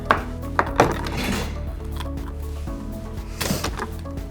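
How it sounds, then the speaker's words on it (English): Knife slicing through food on a cutting board while preparing chicken fajitas, a few sharp taps and knocks near the start and again toward the end, with quieter scraping between. "So you're going to slice down and then slice back"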